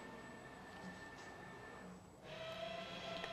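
A garment printer hums and whirs steadily while it raises or lowers its platen, with a faint continuous tone that cuts out and gives way to a slightly louder mechanical drone.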